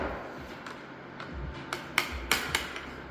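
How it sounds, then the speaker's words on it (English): A hammer knocks wheel studs out of the axle flange of a 1984 Toyota Celica GTS differential, a few sharp metallic strikes building toward the end, close and moderately loud over a faint room noise. "I always try to hit on the back of the studs so that we don't mess up the flange"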